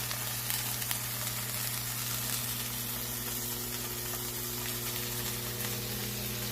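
Tuna steaks sear in a pan on a stovetop with a dense, constant sizzle, close and loud throughout, with a low steady hum beneath and no talking.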